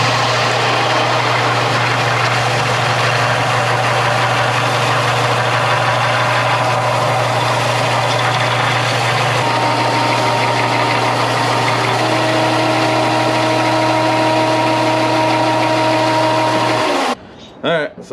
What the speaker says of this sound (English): I'm going to sand it down to there.